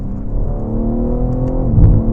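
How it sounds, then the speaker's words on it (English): BMW M3 Touring with its six-cylinder engine pulling under acceleration, a steady close engine drone rising slightly toward the end, with a few faint exhaust pops near the finish. "You get those beautiful burbles from the exhaust as well."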